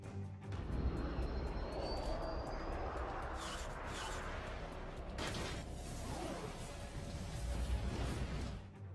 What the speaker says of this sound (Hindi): F-16 विमान क्यों उड़ा इस्लामाबाद के आसमान पे